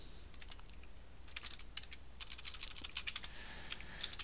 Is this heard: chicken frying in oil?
no